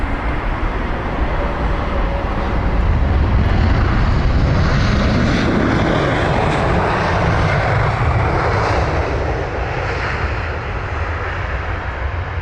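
An Airbus A320ceo airliner, 14 years old, arriving from Milan at London Heathrow, gives a loud, steady jet engine roar that holds broadband and close for the whole stretch with a slight swell midway.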